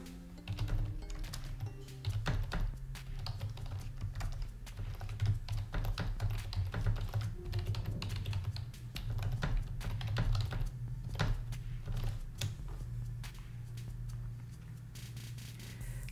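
Steady, rapid keystrokes on a computer keyboard as a command is entered in a terminal, continuous clicking throughout over a low background hum, with no speech.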